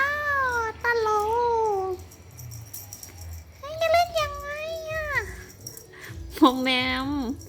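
A cat meows repeatedly while being played with using a stick toy, with several drawn-out, rising and falling calls spread across the clip, fairly close and clear over low background noise.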